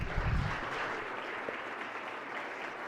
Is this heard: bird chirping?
no